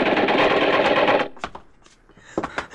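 A rapid rattling burst of gunfire sound effects in a 1954 radio drama plays loudly for about a second, followed by a few sparse sharp knocks and clatter.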